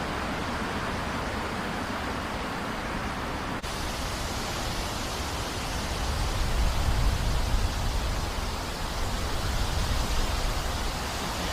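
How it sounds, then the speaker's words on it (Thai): Strong wind gusting across open farmland before rain, a continuous broadband rushing that swells louder partway through, with no voices. "ลมก็จะแรงมาก เริ่มแรง"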